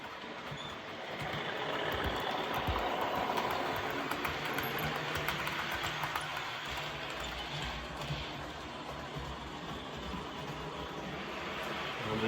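A sound-equipped Accurascale Class 37 DCC model diesel locomotive runs steadily throughout, a continuous broadband engine drone with faint rhythmic clicking, moderately close and heard alone without talk.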